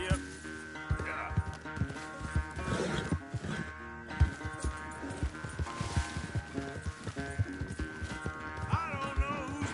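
Horse hooves clip-clop in the Red Dead Redemption II video game, a steady run of hoofbeats under background music with talk over it.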